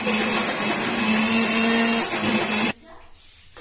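An electric mixer grinder whirs loudly and steadily as it grinds soaked moong dal for dahi vada at home, a dense motor roar with a humming tone, then cuts out abruptly near the end, leaving quiet room sound.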